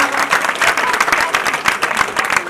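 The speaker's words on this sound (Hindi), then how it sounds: "इनके लिए जोरदार तालियां दें" A school retirement programme audience gives strong, dense applause, with many hands clapping fast and close for a few seconds. Some voices murmur underneath.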